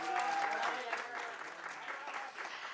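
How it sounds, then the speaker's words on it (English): An audience claps at a product campaign launch event, a round of applause that fades gradually while voices and cheers rise over it. "One more round of applause."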